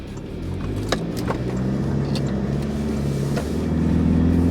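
A modified Toyota Hilux 79 engine drones steadily as it accelerates along a drive, its low rumble building gradually in loudness from inside the vehicle, with no talk over it.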